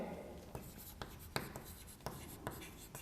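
Pen scratching across paper as a letter is written by hand, with soft strokes and a few sharper taps at irregular intervals, close and quiet.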